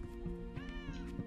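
A cat meowing in the movie Venom, several drawn-out plaintive meows with a rising and falling pitch, fairly close but faint, heard over quiet background sound.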